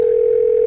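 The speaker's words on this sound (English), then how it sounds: "he hung up the phone" A steady telephone dial tone hums alone after a call ends in a busy hardware store, one continuous unbroken pitch held at even loudness throughout.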